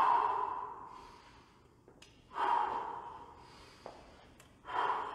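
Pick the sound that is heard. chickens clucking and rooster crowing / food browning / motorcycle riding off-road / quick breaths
quick breaths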